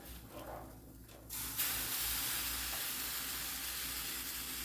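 Butter sizzling in a Dutch oven, a soft start giving way to a steady, even hiss that fills the rest of the moment, no voices.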